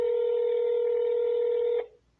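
A telephone call goes unanswered: a loud, steady ringback tone holds for almost two seconds, then cuts off abruptly and fades.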